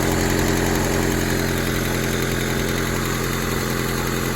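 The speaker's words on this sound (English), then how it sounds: "You can hear just a little tapping." 1997 Honda Civic engine idling after a broken timing belt, with a faint, light tapping from a slightly bent valve under a steady, close mechanical hum.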